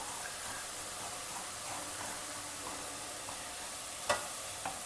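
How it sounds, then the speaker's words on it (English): One cup of Bombay rava (semolina) being dry roasted in a pan over a low flame, giving a soft continuous hiss with light scraping and a couple of sharp clinks of a utensil near the end, quiet and with no talk. "Now side by side, I am dry roasting this 1 cup of Bombay Rava."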